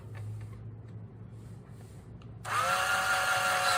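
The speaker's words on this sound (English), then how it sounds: "we're drilling up a hole on this aluminum so we could screw" A power drill starts abruptly and whines loudly and steadily, its pitch rising slightly as the bit bites into aluminum; low background hum before it.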